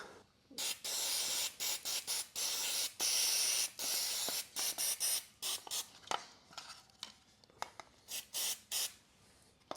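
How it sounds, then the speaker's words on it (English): Degreaser is sprayed onto a Briggs & Stratton four-stroke engine in a rapid series of short, loud hissing bursts, some quick and choppy, others held longer. No voices are heard. "Now we'll just get the degreaser. We'll give everything just a thorough clean through here."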